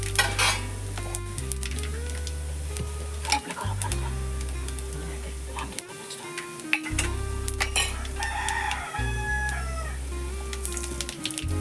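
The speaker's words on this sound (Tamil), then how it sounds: "கடுகு போட்டு பொரிஞ்சோடனே" Mustard seeds splutter and crackle in hot oil beside golden fried coconut in a pan for Kerala-style beef roast, steady sizzling with sharp pops and stirring clatter, close and loud.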